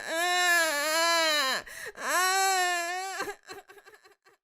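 A voice imitates a baby crying, with two long wavering wails followed by short sobbing whimpers.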